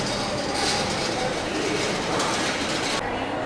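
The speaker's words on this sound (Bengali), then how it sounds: "এটা হয়তো আর পেলামই না ছেড়ে দিল বনগা লোকাল" A continuous loud rumble and roar of a Bangaon local train departing nearby, with rattling wheels and a broad rushing noise that shifts slightly near the end.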